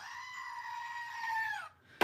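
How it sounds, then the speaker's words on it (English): A goat gives one long, loud, wavering bleat that fades out, followed by a brief pause and then the sharp start of another call, close up with no talking. "Goats!"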